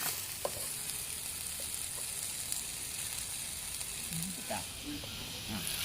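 Ginger-garlic paste fries in a pan for butter chicken, giving off a steady, loud, hissing sizzle with occasional scraping from stirring, while voices talk faintly in the background.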